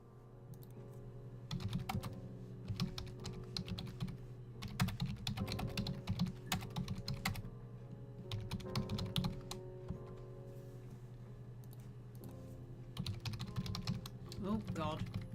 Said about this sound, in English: Typing too fast for my own fingers to keep up with.